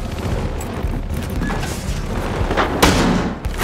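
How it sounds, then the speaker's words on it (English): Battlefield Hardline video game combat: a steady wash of gunfire and rumbling with a sharper burst near the end that fits a frag grenade explosion, all loud and continuous with no clear talk. "Frag going out!"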